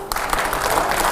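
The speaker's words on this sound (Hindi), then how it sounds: "जोरदार तालियां हो" A crowd at a televised panel discussion claps, a short burst of dense applause that starts abruptly and stays loud and even.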